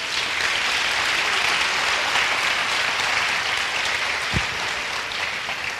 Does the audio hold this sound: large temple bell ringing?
no